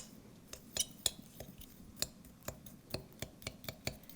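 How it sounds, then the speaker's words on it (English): Dry ingredients with ginger and salt being stirred in a bowl for a Thanksgiving recipe: a steady run of light clinks and taps as the utensil strikes the bowl, about a dozen strokes, quiet and close. "we're going to go ahead and stir that up so it's all mixed in evenly"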